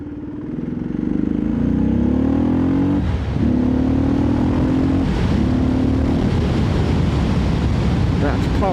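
A Yamaha XT660 motorcycle engine revs up and pulls hard through rising gears, close and loud with brief dips at the shifts, then holds a steady roar with heavy wind rush.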